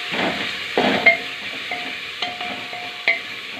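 Onion sautéing in coconut oil inside a pressure cooker gives a steady close sizzle, broken by several sharp scraping knocks as it is stirred.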